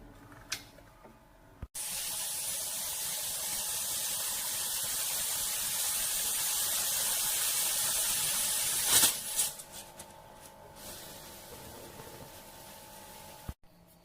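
A pressure cooker on the stove with rice and milk for palpayasam hisses steam in a loud, continuous jet for several seconds, cutting off abruptly, with quieter kitchen sounds before and after.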